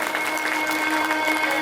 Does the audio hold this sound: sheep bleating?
no